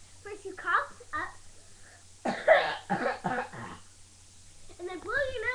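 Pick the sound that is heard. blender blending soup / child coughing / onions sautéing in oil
child coughing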